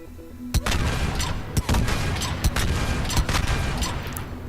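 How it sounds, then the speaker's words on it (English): Repeated gunshots at the Mass Effect 3 shooting range, sharp loud reports about once every second over a steady background hum, with no talking. "Let's take a look at some shooting mechanics in the Mass Effect 3 shooting range."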